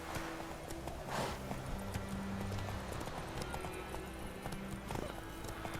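Horse hooves from The Witcher 3 video game clip-clop steadily at a gallop, with a brief whinny-like burst, over continuous game ambience; no talk.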